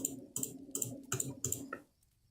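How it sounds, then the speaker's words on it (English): Rapid clicks of a mouse or button come in a quick irregular burst of about six or seven sharp taps, close and fairly faint, before falling silent. "can you hear that clicking?"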